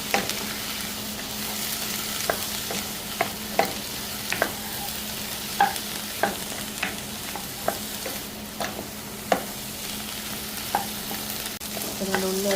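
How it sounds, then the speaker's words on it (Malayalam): Chopped tomato, shallots, drumstick and green chilli sauté in oil over a constant low sizzle, punctuated by regular sharp scrapes and clacks of a spoon stirring the pan; no talking. "നേരത്തെ അരിഞ്ഞു വെച്ചിരുന്ന തക്കാളി, ചെറിയുള്ളി, മുരിങ്ങ, പച്ചമുളക് ആഡ് ചെയ്ത് ഒരു 5 മിനിറ്റ് നേരം എണ്ണയിൽ നന്നായിട്ടൊന്ന് വഴറ്റിയെടുക്കാം"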